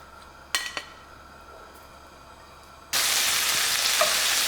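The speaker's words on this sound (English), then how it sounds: "I'm going to add some oil and I'm gonna cook the shrimp" Shrimp dropped into hot oil in a pan over medium-high heat for coconut curry shrimp: after a couple of light clinks, a sudden loud steady sizzle starts and continues close by, with no speech.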